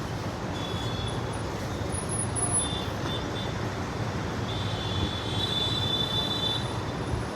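A small children's ride train at an indoor game zone on Sindhu Bhavan Road, with a steady rumbling roll and faint high wheel squeals, close by and continuous.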